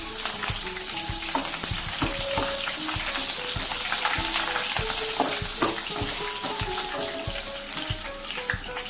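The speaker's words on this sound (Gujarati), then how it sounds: "હવે મરચાં તળી લઈએ" Green chillies fry in hot oil for a tendli and potato sabzi, giving a loud, continuous sizzle with bursts of crackling and spattering that hold steady throughout, with no voices.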